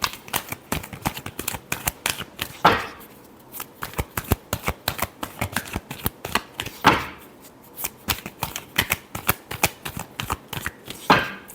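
Tarot cards are shuffled by hand in rapid riffling bursts of crisp slaps and flicks, close and clear, with a sharper riffle every few seconds, no talking.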